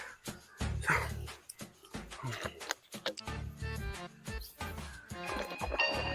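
A dog barks and yips in sharp, irregular bursts up close, with whimpering between barks and some background clatter.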